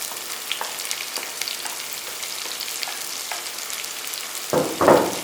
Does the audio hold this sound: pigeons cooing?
no